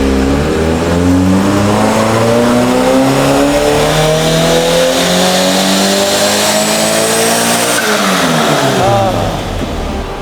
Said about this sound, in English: Car's on, it's hooked up to the dyno.